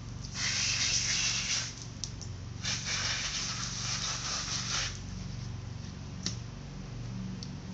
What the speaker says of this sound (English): I usually spray off my gloves before I take them off so they don't have all that black gunk on them